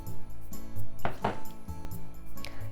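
A kitchen knife slices through green onion on a cutting board, a few sharp crisp cuts and board knocks spaced irregularly, close and fairly quiet amid a faint steady hum.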